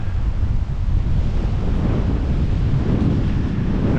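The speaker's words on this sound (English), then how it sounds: "Wind gusting is nuts." Strong gusting headwind buffets a cyclist on the Great Divide Mountain Bike Route between Ferndale and Lincoln, a loud, continuous low roar of wind across the microphone with no pauses throughout.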